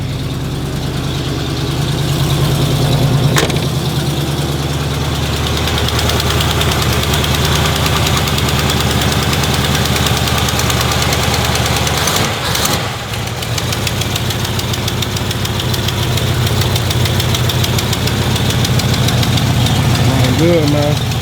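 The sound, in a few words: Chevy El Camino engine idling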